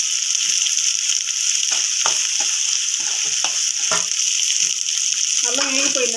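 Ginger fries in hot oil in a pan with a constant loud sizzle and crackle throughout, broken by occasional scrapes and stirring taps of a utensil.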